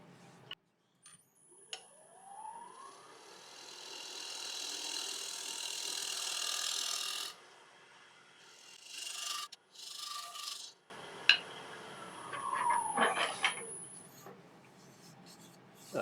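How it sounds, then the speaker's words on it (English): A scraper refining Irish walnut on a wood lathe, a sustained raspy scraping whir for several seconds, a pause with soft knocks, then more scraping with sharp squeaky tones, close and moderately quiet. "I can do a little bit of refining now with the scraper."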